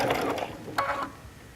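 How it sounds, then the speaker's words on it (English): Home sewing machine stitching back over a previous seam on a custom bag, a short mechanical whirring burst with a brief pause before a second close run. "I'm going to stitch over just my previous stitching a tiny bit here"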